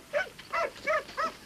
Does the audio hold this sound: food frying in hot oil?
no